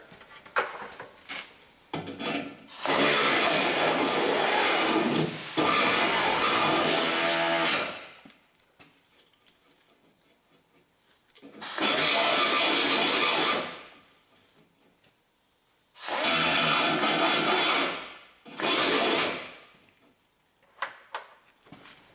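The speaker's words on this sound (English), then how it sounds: "So now I'm going to get my little grinder and clean this hole up so it ain't so sharp." A small grinder deburrs a freshly drilled hole in a metal truck bed. It sounds as three loud, close bursts of harsh whirring grinding, each lasting a few seconds, separated by quiet pauses.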